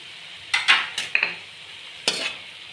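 Chicken and vegetables with black pepper are stirred in a pan, with a few sharp scraping clatters and short sizzling bursts in clusters separated by quieter gaps.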